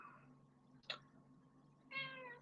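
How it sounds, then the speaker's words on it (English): A cat meows at a person's feet indoors: one meow, then a short sharp sound, then a longer meow, close and clear, with no talking. "You can't just sit there and meow at my feet."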